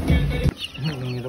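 Young chickens, a few weeks old, peeping and clucking up close, a short burst of calls followed by softer chirps.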